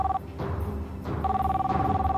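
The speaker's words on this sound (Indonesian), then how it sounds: "Telepon tuh, Pak, angkat." A telephone rings indoors in a home, two bursts of steady bell-like trilling separated by a short gap, fairly close and clear, with faint background noise.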